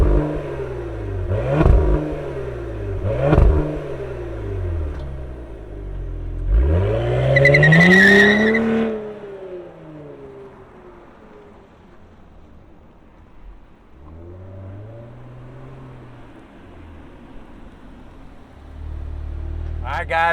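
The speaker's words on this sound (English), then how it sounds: "let's fire up this twin turbo V6 and hear what it sounds like" A twin-turbo V6 in a 2025 Cadillac CT5-V barks to life with two sharp revs, then a longer rising rev that falls away to a quiet idle, and a final blip closes it out.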